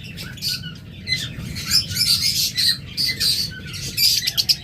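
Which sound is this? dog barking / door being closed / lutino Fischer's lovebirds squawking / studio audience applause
lutino Fischer's lovebirds squawking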